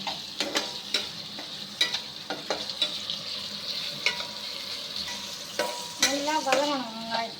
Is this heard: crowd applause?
no